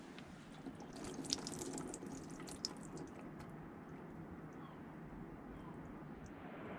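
Water drains from the door-area drain point of a BMW E60 M5's sunroof, a faint close trickle with scattered small drips over a steady low wash.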